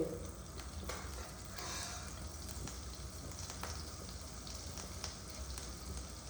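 Butter sizzling in a pan for butter garlic egg, a steady soft crackle of frying with a few light stirring and scraping scrapes against the pan.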